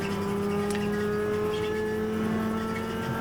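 A race car engine droning steadily at high revs during a charity race at Spa as it moves to pass another car, a continuous, close, even tone with no talk.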